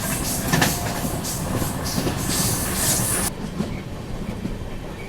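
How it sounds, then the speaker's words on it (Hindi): The Kaifiyat Express runs at speed, around 110 km/h, on the Kanpur–Delhi route, heard from inside with a dense rumbling roar and rhythmic clickety-clack of the wheels, which grows duller and quieter partway through. "फिलहाल तो इस ट्रेन की रफ्तार 110 किलोमीटर पर आवर की रहने वाली है कानपुर तक"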